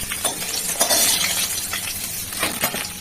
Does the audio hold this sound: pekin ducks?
no